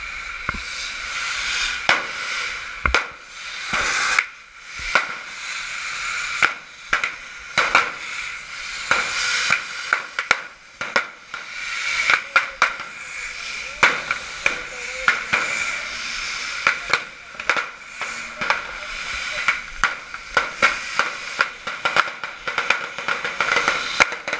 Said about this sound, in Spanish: es cuando ya empiezan los cohetes a funcionar